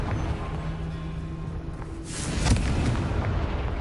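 A Confringo spell explosion in a Harry Potter-style video game, a swelling rumbling blast that builds midway and rolls on, fairly loud over background game noise.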